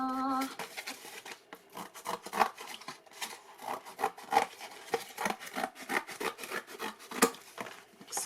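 Scissors cutting shapes from a craft sheet, a steady run of close, quiet snips and rustles in an uneven rhythm, with a faint tone at the start.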